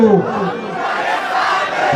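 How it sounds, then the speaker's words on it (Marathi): A crowd at a Vanchit Bahujan Aghadi political rally chants slogans back after a speaker, a loud, dense mass of voices sustained through the whole stretch. "माझ्या पाठीमाग घोषणा द्या"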